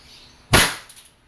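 A WE airsoft Glock 34 Gen 4 gas pistol fires a single sharp shot close by, with a short clattering echo of the slide afterward in an otherwise quiet space.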